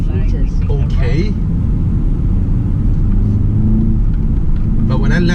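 2019 BMW 330i M Sport G20 on the road, a steady low engine and road rumble from inside the cabin, with a voice briefly talking at the start and end.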